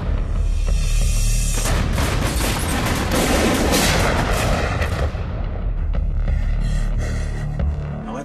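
Gunfire in a trailer for the film Detroit, heavy booming shots and rumbling blasts layered over a throbbing score, loud and dense before fading slightly toward the end.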